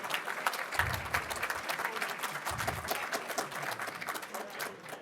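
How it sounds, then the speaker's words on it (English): Attendees at a St. Louis cybersecurity conference applauding the sponsors, a steady moderately distant round of many hands clapping, with a couple of low thumps partway through. "how about a big round of applause for our sponsors?"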